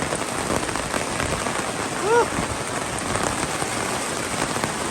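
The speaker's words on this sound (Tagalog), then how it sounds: "So, nabot na kami ng ulan." Rain falling outdoors in Drumheller, Alberta, a steady dense hiss of drops on surfaces throughout, with a brief faint voice-like call in the middle.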